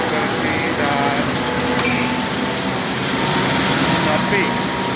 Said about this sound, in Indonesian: Kereta dinas yang lagi uji lokomotif dan rangkaian nampak bersih dan